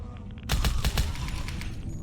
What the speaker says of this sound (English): That is a Commando submachine gun. Commando Saber submachine gun.